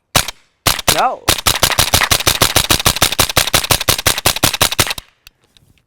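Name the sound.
suppressed rifle shots with CCI Mini Mag ammunition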